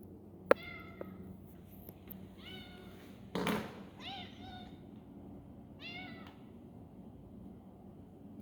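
A cat meows repeatedly in short calls at a small comedy club open mic, with someone talking to it between the meows and a brief thump partway through.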